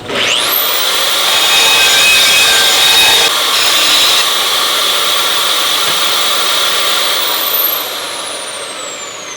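A belt sander grinds along the edges of aluminum parts for a catch can, a loud steady abrasive whir that runs for several seconds, shifts pitch briefly, then eases slightly near the end.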